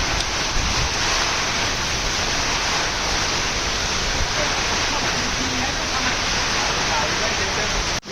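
A heavy rain and wind storm roars as a dense, unbroken wash of downpour and gusts, loud and close throughout, cutting off abruptly at the end.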